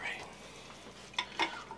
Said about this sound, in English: Gonna let that get its sizzle on.